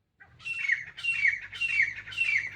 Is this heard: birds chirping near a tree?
yes